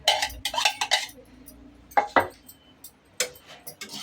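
Chopped onions and ivy gourd pieces are tipped into a kadai for ivy gourd chutney, making clattering, clinking bursts against the metal, nearby and uneven, with quiet gaps in between.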